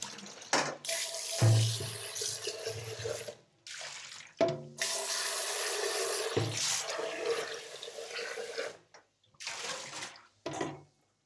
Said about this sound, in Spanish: Esperen que esto lo voy a enjuagar ya.